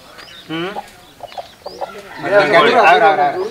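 A fighting rooster crows loudly nearby, a long strained call following a few shorter clucks and brief bird calls.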